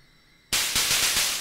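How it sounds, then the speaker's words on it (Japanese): Broadband hiss from a modular synthesizer's noise generator bursts in abruptly after a quiet moment and continues loud and steady with faint rhythmic pulsing. "これがノイズの音ですね。"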